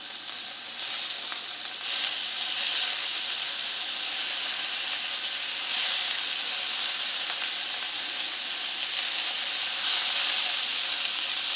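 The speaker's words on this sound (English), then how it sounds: "I'm just going to add my meat. I did put a couple tablespoons of olive oil into my pan." Ground beef sizzling in a hot cast iron skillet with a couple tablespoons of olive oil, a steady bright crackling hiss that carries on evenly with slight swells, no talking.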